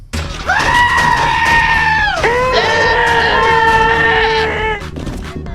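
A goat from the video game Goat Simulator lets out two long, loud, piercing human-like screams in quick succession, close and sustained, with faint murmuring in the background.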